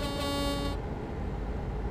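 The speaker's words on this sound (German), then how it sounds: "Mal hier gleich die Hupe zünden." A truck horn sounds in Euro Truck Simulator 2 during a multiplayer tractor-transport haul, a loud, tonal blast lasting under a second, then the engine and road rumble carry on alone.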